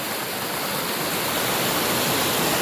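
Monsoon water rushes through a small check dam in a Kokan village, a close, steady broadband roar with no pauses.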